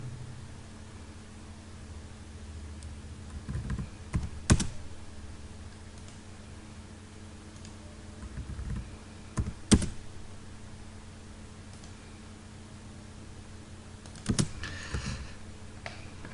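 Keystrokes on a computer keyboard while drafting in AutoCAD Civil: sparse, quiet clusters of clicks and taps recurring every few seconds over a low background hiss, with no talking.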